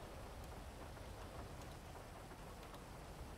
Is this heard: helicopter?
no